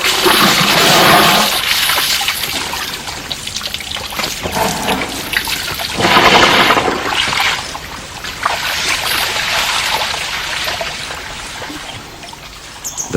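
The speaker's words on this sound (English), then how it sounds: "He blows water on the wound and seals it with his trunk." An elephant sprays water from its trunk onto a bullet wound above its eye in the jungle, a loud, sustained splashing and trickling gush that surges in several bursts, with no voices.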